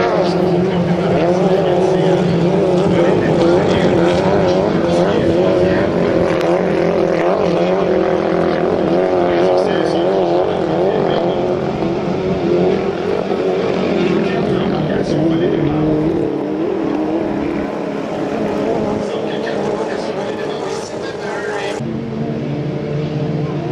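2.5-litre racing boats speed past in a hydroplane heat at Beauharnois, their engines a loud, continuous high-pitched roar that fills the whole stretch while a commentator talks over it.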